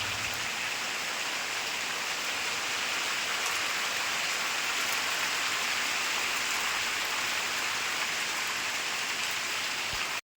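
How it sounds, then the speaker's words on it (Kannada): Heavy monsoon rain in the Malenadu region pours steadily on a surface, a dense, even hiss of drops close by that continues unbroken until it cuts off. "ಮಳೆಗಾಲದಲ್ಲಿ ಮಳೆ ಬರದೇ ಇರುತ್ತಾ, ಸರಿಯಾಗಿ ಒಂದು ಮಳೆ ಬಂತು"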